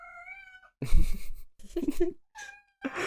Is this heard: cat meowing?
yes